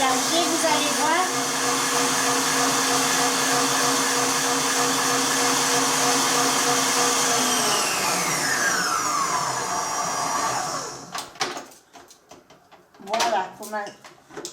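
An electric mixer whisking egg whites for an omelette norvégienne, a steady loud whirring drone whose pitch slides down before cutting off, followed by a few clattering knocks.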